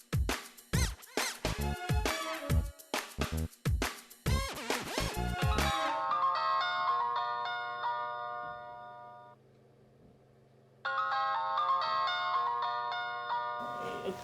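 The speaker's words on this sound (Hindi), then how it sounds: "किसका फोन है?" A phone ringtone plays loudly with rapid chiming notes for several seconds, then turns into a softer sustained melodic ring that stops briefly and starts again, with no voices over it.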